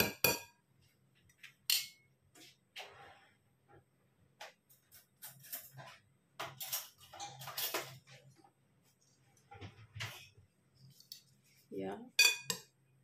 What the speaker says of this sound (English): then we start mixing everything together